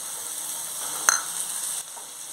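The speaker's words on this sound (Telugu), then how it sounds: "ఈ శనగపప్పుని ఇలా నీళ్ళతోటే వేసేసుకుందాం" Soaked chana dal tipped with its soaking water into a hot frying pan, giving a steady close sizzle and hiss with one brief clink partway through; nobody speaks.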